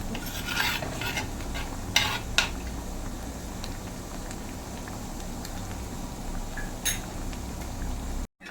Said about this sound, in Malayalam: ഇനി ലോ ഫ്ലെയിമിൽ തന്നെ ശർക്കര ഒന്ന് ഉരുക്കി വരട്ടെ